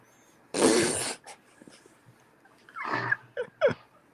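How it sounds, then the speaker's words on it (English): Dogs snort, sniff and huff close to the microphone in short irregular bursts, a loud sneeze-like blast followed by quieter snuffles and breaths, with no talking. "The dogs are keeping Tony busy, right?"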